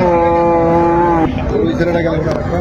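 A loud, close, drawn-out moo from a young bull lasting over a second, followed by rustling and faint background voices.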